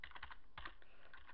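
Keys clatter on a computer keyboard in a short burst of quick, light taps, then a brief pause and a few more, close and quiet with no voices.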